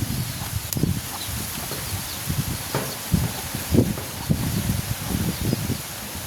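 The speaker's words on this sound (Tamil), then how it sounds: "சும்மா சுழட்டி அடிக்குது காற்று" Strong, swirling wind gusts through coconut trees in a village beside an outdoor cooking fire, coming as irregular low buffeting rushes and rustles that rise and fall at close range.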